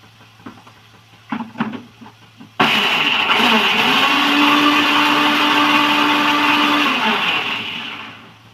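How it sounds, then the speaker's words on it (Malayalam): Mixer grinder blending chicken curry ingredients in a home kitchen, a loud steady whirring roar that starts abruptly after a few faint clatters, holds evenly for about four seconds with a humming tone, then winds down. "അപ്പൊ നമുക്ക് ഇത് അടിച്ചെടുക്കാം മിക്സിയിൽ."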